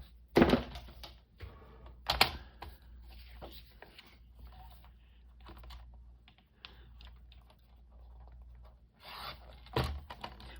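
Paper scraps being cut and snipped for scrapbooking: irregular close-up crisp snips and rustles, a few louder crinkling bursts, with softer handling sounds between. No speech.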